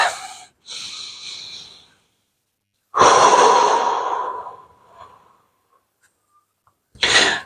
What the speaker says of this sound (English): So take a breath into your solar plexus.